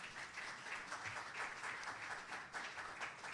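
A congregation at a Spanish-language church service claps in praise, a soft, distant, even patter of applause continuing with no voices over it.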